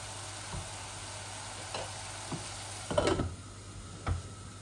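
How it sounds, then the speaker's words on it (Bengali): Minced keema frying in a pan with little oil, giving a faint, steady sizzle broken by a few soft stirring scrapes and taps. "আর একটু ভাজা ভাজা করে নেই"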